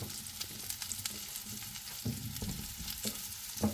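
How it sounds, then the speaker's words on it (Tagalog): Mushrooms and other ingredients sautéing in butter in a pan just used for cooking fish, a close, steady sizzle punctuated by several spatula knocks and scrapes. "dito ko rin igigisa tong mga ingredient"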